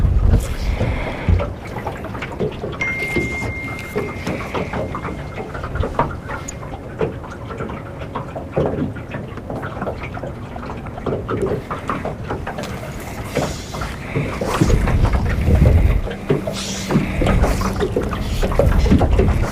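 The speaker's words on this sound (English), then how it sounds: "There's quite a heavy wind blowing down the lake right now" Heavy wind blows down a lake in February, a gusty, rumbling rush that surges and eases, with stronger buffeting near the end.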